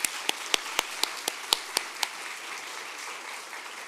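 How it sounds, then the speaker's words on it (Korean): A church congregation at a Sunday morning service gives welcoming applause, a series of sharp, evenly spaced claps standing out over a softer wash of clapping that fades after a few seconds. "환영의 박수를 전하겠습니다"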